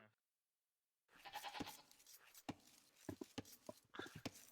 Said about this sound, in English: They're not sheep, they're goats.